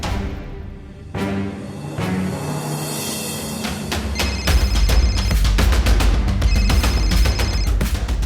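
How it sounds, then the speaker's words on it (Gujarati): An incoming call on a mobile phone rings loudly and repeatedly, its electronic ringtone pulsing in steady bursts that grow fuller partway through, close up with no talking. "કટ કરું છું તો પણ ઉપરા ઉપરી ફોન કેમ કરે છે?"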